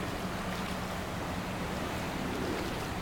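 A car pushes through a flooded Houston street during heavy April rain, making a continuous loud wash of churning water and spray that holds steady throughout, with no voices.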